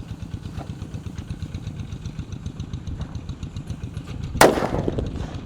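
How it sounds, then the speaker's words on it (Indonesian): A mercon bledek firecracker, lit outdoors during a Ramadan evening gathering, goes off in one loud, sharp bang near the end. Its echo tails away over the steady, pulsing putter of a nearby idling motorbike engine. "Lanjut di sini ada mercon bledek yang akan kita nyalakan."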